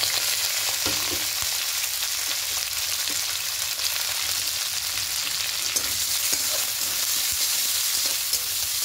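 Chopped onion and green chili frying in a pan for restaurant-style pasta, a steady close-up sizzle with faint stirring scrapes and no talking.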